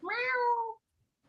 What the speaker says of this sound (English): He's a big cat, isn't he?